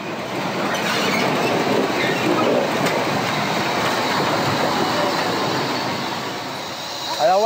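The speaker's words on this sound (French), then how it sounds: "Cette locomotive est classée monument historique." A historic steam locomotive hauling a train along a restored railway line dating from 1891, heard as a steady, loud rumbling roar of rolling wheels and rail noise that continues throughout.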